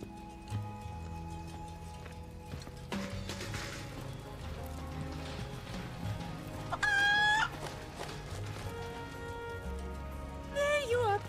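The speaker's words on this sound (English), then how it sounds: "Get over here, chicken." A chicken in the Final Fantasy VII Rebirth video game clucks and crows in short bursts over soft game music and ambient sounds, with someone talking.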